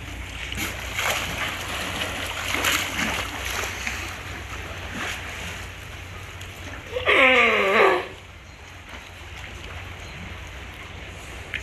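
A single loud, harmonic bark-like call, like a sea lion's, rises out of splashing water and waves, lasting about a second.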